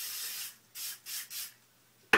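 Hairspray hisses onto teased wig bangs in four short bursts, one long then three quicker ones close by, separated by quiet pauses and ending with a sharp click.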